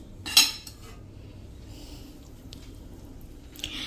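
A thick methi pak mixture is scraped from the pan onto a plate: one sharp metallic scrape at the start, then quiet, softer scraping and a final brief scrape.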